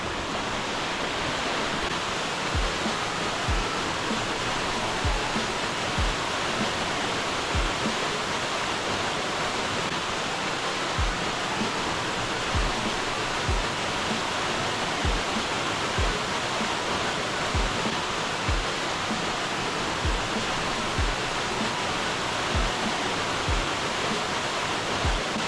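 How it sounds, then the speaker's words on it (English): Eaton Canyon waterfall in the San Gabriel Mountains, Angeles National Forest, roars as a constant, dense rush of falling water, close and loud, with faint low thumps beneath. "That was the Eaton Canyon waterfall."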